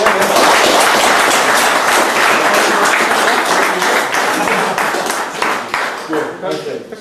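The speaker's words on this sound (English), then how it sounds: "I think a round of applause, ladies and gentlemen." Dense clapping from a crowd, steady and loud for several seconds, thinning out toward the end as a voice comes in.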